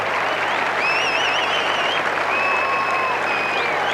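A stadium crowd applauds a try in a 1989 Auckland versus Argentina rugby test, a continuous roar of clapping broken by whistles that rise and waver above the crowd noise.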